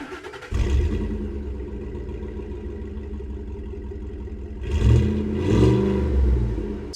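A 2010 first-generation Ford F-150 Raptor pickup accelerates, its engine note steady and loud for several seconds, then rising in two surges as it revs harder, heard from inside the cab with no talk.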